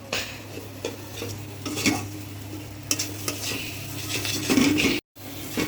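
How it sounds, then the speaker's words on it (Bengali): Spice masala being stirred and fried in a pan for tehari, with a steady soft sizzle under scraping and clinking of a spoon against the pan and occasional louder strokes, heard up close. "এখানে মশলাটা আস্তে আস্তে কষানো হয়ে গিয়েছে"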